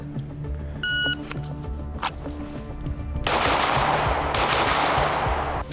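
A PSA Micro Dagger compact 9mm pistol, a Glock 43X clone, fires during a two-targets drill: a short electronic timer beep, then a few loud, sharp reports in quick succession with a ringing wash after each.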